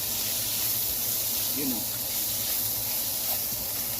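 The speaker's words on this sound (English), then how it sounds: "I'll allow it to steam until it is nice and tender." Frozen vegetables steam in a pan while fried rice is made, giving a steady, moderately loud broadband hiss with faint sizzling throughout.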